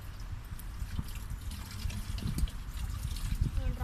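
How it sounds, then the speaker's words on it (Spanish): Water splashing and trickling onto soil while watering a home vegetable garden bed, a soft continuous outdoor wash of dribbling liquid with scattered small bumps and faint background noise. "El agua es vida, por lo tanto vamos a regar nuestra quinta."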